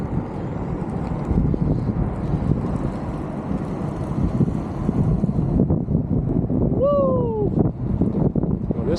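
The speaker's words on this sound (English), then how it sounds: "Certain moments the wind will pick back up again." Steady low wind rumble buffets the microphone outdoors while rollerblading, with a brief tonal chirp near the end.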